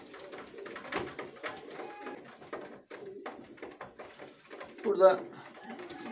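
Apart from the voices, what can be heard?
Hünkari pigeons cooing in their coop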